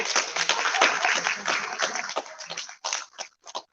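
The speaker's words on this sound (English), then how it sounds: "Give him a round of applause." Audience applause at a live gaming event, a burst of dense, close clapping that thins out into scattered claps before fading.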